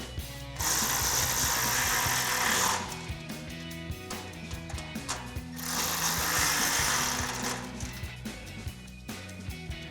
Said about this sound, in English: we can take our 5mm Allen socket to tighten those down